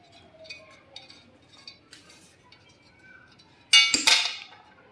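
A bolt on a manual ring making machine is unscrewed and removed: faint metallic ticks and clicks, then one sharp, loud metal clank near the end that rings out briefly.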